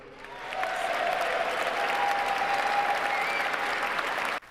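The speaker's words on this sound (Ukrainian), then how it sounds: "Аудиторія раз за разом піднімається і аплодує 47-му президенту стоячи" An inauguration audience applauds the president, a dense, sustained wave of clapping that swells in after a moment, holds steady and loud, then cuts off abruptly.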